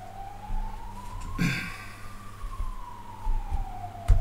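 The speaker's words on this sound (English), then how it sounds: "The ambulance is coming." An ambulance siren wails outside, a rising and falling tone sweeping past at moderate distance behind a quiet room, with a brief bump of other noise midway.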